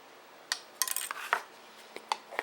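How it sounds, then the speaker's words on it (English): Spoonfuls of coarse ground black pepper go into a crock pot of Mexican chicken, with a few sharp metal clinks of a spoon against the pot and measuring spoon, scattered and close. "I'm going to put in 1 teaspoon of coarse ground black pepper"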